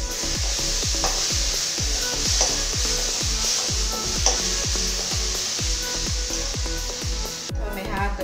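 Tomato-based masala sizzles loudly in a pan, a dense, constant hiss with rhythmic scraping strokes from stirring throughout, then a brief pause at the end.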